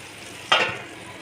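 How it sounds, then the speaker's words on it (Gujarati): Tuvar (pigeon pea) curry cooking in oil gives a single short burst of sizzle and stirring that fades quickly, set against quiet background. "થોડી વાર ચડવા દઈશું તેલમાં."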